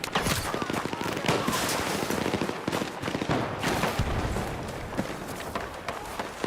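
In Battlefield 6, rapid machine gun fire rattles in dense bursts amid other gunshots. The chaotic firefight stays busy throughout, with a voice briefly heard beneath it.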